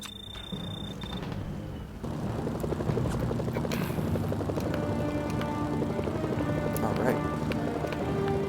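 The Mafia helicopter in the video game Mercenaries: Playground of Destruction gives a steady rotor thrum under other game sounds, with a voice talking over it.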